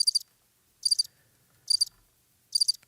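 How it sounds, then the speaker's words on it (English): Crickets chirp in four evenly spaced, bright trilling bursts against near silence, each burst brief and clear, as a comedic sound effect. "Crickets? Crickets."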